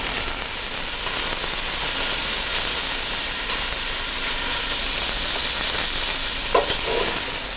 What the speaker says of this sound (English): then we're just going to give them a quick sear, looking to brown both sides